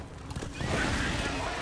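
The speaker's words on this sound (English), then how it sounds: "Just me and my horse to spare. Just riding through." A horse whinnies in the Darksiders 2 game, a short loud neigh over hoof clip-clop while riding.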